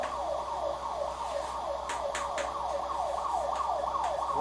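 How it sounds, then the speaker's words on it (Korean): An emergency vehicle siren heard outside a classroom: a rising and falling wail repeats steadily throughout, fairly loud and steady, with no talk over it. "소방차고 경찰차고 앰뷸런스 소리 구분할 수 있었네?"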